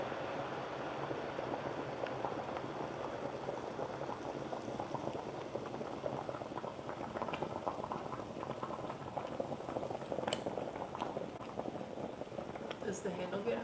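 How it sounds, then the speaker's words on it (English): Turkish coffee boils hard in a small pot, a dense, steady bubbling and gurgling that runs unbroken throughout and sits close and fairly loud. "This is an aggressive boil here."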